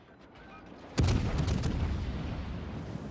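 Naval gunfire in World of Warships lands as a single sudden heavy boom, followed by a sustained rumbling roar that trails on over continuous low background noise.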